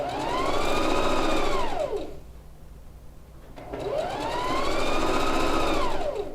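Two long runs of a sewing machine stitching a second line along a wrap dress hem, the motor whining up and back down in speed each time, loud and close with a short pause between.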